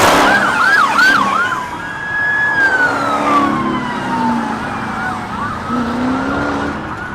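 Police cruiser sirens wailing and yelping during a high-speed pursuit of a Dodge Charger, the rising and falling tones loud and continuous over low road noise for the whole stretch.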